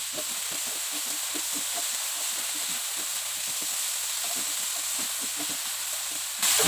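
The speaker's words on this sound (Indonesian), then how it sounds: "Kita aduk rata." Fermented soybean paste (tauco) sizzles and hisses in a hot frying pan while it is stirred. A steady bright sizzle carries soft, rhythmic scraping strokes of the spatula, and the frying briefly surges louder at the very end.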